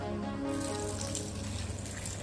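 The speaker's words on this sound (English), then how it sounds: "Add some little water to this" Water pours steadily into a cooking pot of Afang soup with stockfish, a continuous close splashing stream filling the pot with no talking.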